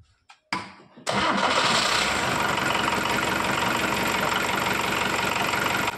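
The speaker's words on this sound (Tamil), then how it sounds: "அந்த ஓல்டு என்ஜினுக்கான சவுண்டு அப்படியே பர்ஃபெக்டாக இருக்குது" An old Hindustan Ambassador car engine cranks in a few short bursts, then catches and settles into a loud, steady idle that runs to the end.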